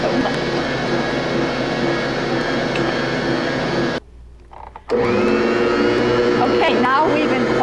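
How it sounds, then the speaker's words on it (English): A stand mixer kneads bread dough for Greek fry bread with a steady, loud motor whir that cuts out briefly for about a second, then resumes at full strength. "we have to let the mixer mix for about 8 minutes"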